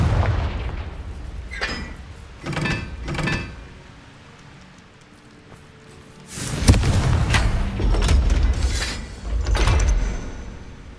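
A Confringo fire spell from Hogwarts Legacy blasts in a series of booming, whooshing explosions, a few short bursts early, then a louder rumbling cluster of impacts and crackling fire later, with no speech.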